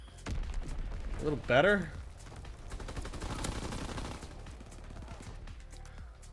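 Hip-fired M1928 Thompson submachine gun bursts in Call of Duty: WW2 multiplayer team deathmatch on Flak Tower, rapid automatic fire with explosions under steady talk from a commentator.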